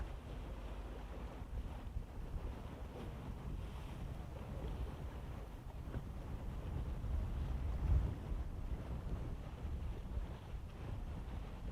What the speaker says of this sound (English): big gust of wind, sorry about that.